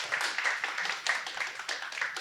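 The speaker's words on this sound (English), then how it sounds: "Please give him a round of applause" An audience at a startup pitching session claps steadily, a dense even wash of applause from many hands, moderately loud and continuing throughout with no voices over it.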